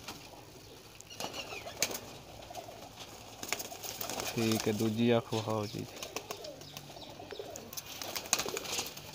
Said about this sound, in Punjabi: ਇਹ ਜੀ ਇਹਨਾਂ ਦਾ ਇੱਕ ਪਰਵਾਜ਼ੀ ਕਬੂਤਰ ਹੈ